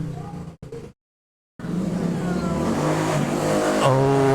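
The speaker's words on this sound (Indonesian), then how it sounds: "Oh, suara motor." Motorbike engine revving up as it passes nearby, a rising, sustained drone after a brief gap of silence, loud and continuous through the end.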